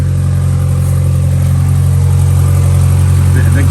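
A Mazda MX5 engine idling steadily during an oil change, a loud, even low rumble with a regular pulse that holds for several seconds with no one speaking.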